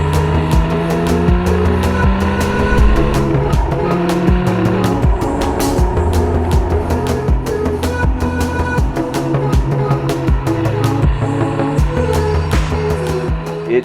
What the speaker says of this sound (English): which is a 981 Cayman S.